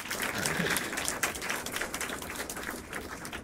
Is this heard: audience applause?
yes